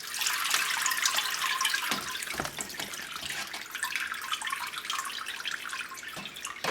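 Beef broth draining off as the basket is lifted from a turkey fryer after a 24-hour simmer, a continuous close pouring and splashing rush of liquid with a few dips, lasting throughout and heard alone.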